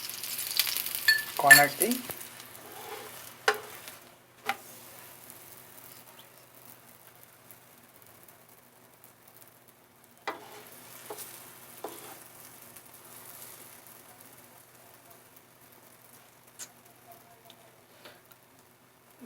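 A potato paratha fries on a hot pan as oil is poured around its edge, a bright sizzle bursting early and again midway, then fading to a faint, quiet crackle; someone speaks briefly.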